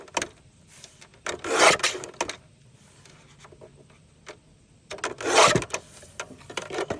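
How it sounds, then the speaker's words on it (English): Scissors snip through craft material for decorating a ring-bound journal, two close bursts of cutting separated by quieter pauses with small rustles of paper. "I'm not even measuring, I'm just cutting."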